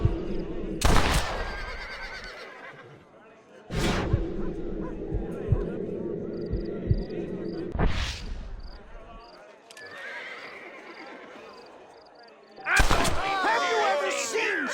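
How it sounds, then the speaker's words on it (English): Gunshots in the Red Dead Redemption video game as shots are fired at a hat, four sharp loud cracks spaced a few seconds apart, with horse neighs, hoofbeats and ambient game sound in between. "Get ready to shoot that hat."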